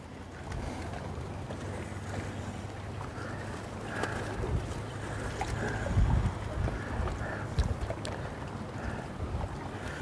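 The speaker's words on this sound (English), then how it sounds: "the way the wind's blowing today, it's blowing away from this structure" Wind buffeting a microphone at a jetty on the Murchison River in Kalbarri during fishing, a steady low rumbling roar with gusty swells throughout, loud and close, with no talking.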